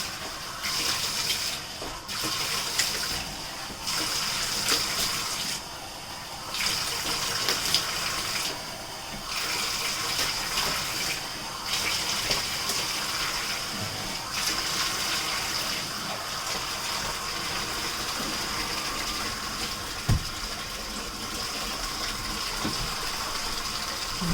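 Water runs steadily from a bathroom tap, a continuous hissing gush with brief dips and surges, heard alone at moderate loudness.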